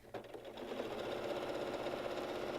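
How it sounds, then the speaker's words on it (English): A sewing machine stitching quilt seams runs close and steady, a fast even whirring hum that starts with a brief click and then continues without a break, with no talk. "Just sewing marathon, taking time, making sure that you're maintaining your seam allowance"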